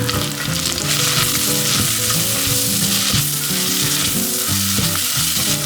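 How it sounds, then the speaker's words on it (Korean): Soy sauce, minced garlic, ginger and pepper stir-fry in a pan with a loud, dense sizzle and a crackling hiss, while stirring adds knocks and scrapes close up throughout. "간장, 간장 하나 반, 다진 마늘 하나. 가진 생강 이 정도 후추 톡톡톡 살짝 넣고 볶아줍니다."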